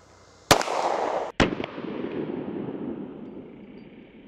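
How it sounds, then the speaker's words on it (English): Two sharp, loud pistol shots from a 9mm 1911 firing lead-core FMJ rounds crack about a second apart outdoors, each followed by a long fading echo, with no talking. "Both of these we're firing out of the Gearson Influencer X, a 9mm 1911 that has been helping us out a ton for this test"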